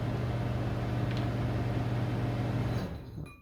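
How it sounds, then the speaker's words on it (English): A microwave oven hums steadily with a low, loud drone and fan noise that cuts off near the end, leaving a brief quieter tail. "Now you can hear me better because the microwave stopped making noise"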